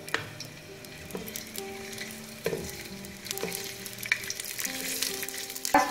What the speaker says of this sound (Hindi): Oil में onion को डालकर इसको मैं soft करूँगी।